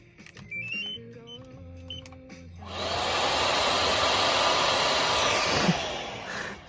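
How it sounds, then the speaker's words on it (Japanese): A household hair dryer switches on after a few seconds of quieter tonal sounds, then runs at full power as a loud, steady broadband whoosh with a faint hum until the end. "ドライヤーならもしかしたらいい音出るかも。"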